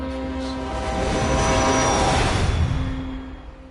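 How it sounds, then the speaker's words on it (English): A train passing in the video game What Remains of Edith Finch: a loud, sustained rumble with droning horn-like tones that swell through the middle and ease slightly at the end, with no talking. "He got took out by a train."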